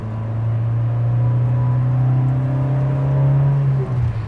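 A 1983 Peugeot 505 GTI engine revs hard under acceleration, a loud, steady droning hum heard from inside the car that climbs gradually in pitch, then dips briefly near the end.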